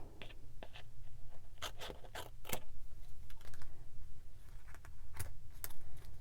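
Excess patterned paper being trimmed from a 12 x 12 scrapbook layout, with a series of short, crisp snips and rustles in an uneven rhythm over a steady low room hum, close and moderately loud.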